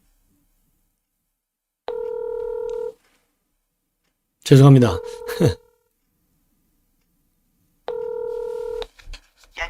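Telephone tones sound while a dropped call is redialed: two steady, close electronic beeps about a second long, several seconds apart, with a man's brief spoken apology between them.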